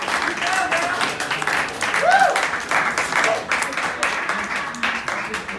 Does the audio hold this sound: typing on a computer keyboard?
no